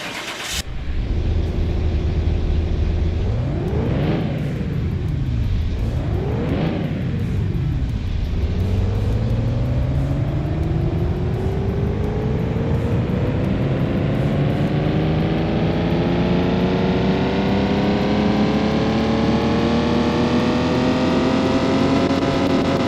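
Car engine in Car Mechanic Simulator 2021 starts, blips twice, then climbs through a long steady rev sweep on a dyno, its pitch rising gradually; loud, close and continuous with no talk.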